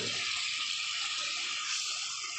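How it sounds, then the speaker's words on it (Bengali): A little water poured into a fish curry in the pan, a steady, close, bright hissing rush that runs unbroken for a couple of seconds with no talk over it. "জল ঢেলে দেবো।"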